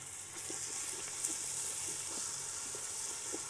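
Ginger garlic paste fries with onions in a pot for dhaba-style tarka dal, giving a constant, fairly loud sizzle with small crackles and soft stirring ticks throughout.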